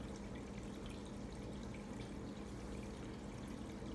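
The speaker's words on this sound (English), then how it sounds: "This is 1 week of the water running through the filter pad of the Rollermat." Water runs steadily through the filter pad of a Rollermat on an aquarium, a continuous close splashing pour with no breaks or voices.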